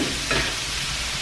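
Shrimp sautéing in a hot pan give off a steady, close sizzle with brief stirring scrapes, and no one talks over them.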